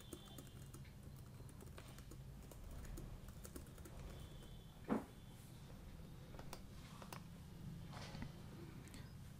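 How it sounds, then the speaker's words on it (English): Soft, steady typing on a computer keyboard, with quiet irregular key taps close by and one slightly louder clack midway. "So we'll just type something over here."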